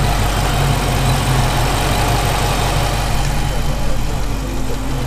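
A 2020 Dodge Charger 392 Scat Pack V8 idles nearby with a steady, deep rumble that holds evenly throughout, with no revving.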